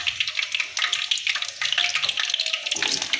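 Carrots and mixed vegetables frying in a pan for vegetable biryani make a dense, steady sizzle with crackling bursts, close and loud, with no voices.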